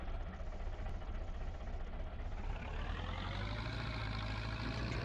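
A tractor engine from Farming Simulator, heard from the cab, drones steadily and loud, a continuous low rumble with a rising whine toward the end and no voices over it.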